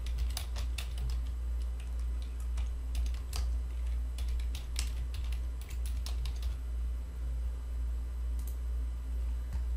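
Steady computer keyboard typing in quick, uneven bursts of clicks during accounting data entry in Rewizor GT software, with a constant low hum underneath and no talking.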